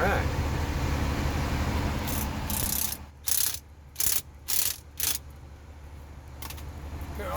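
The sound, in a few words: ratchet tightening water pump hose fittings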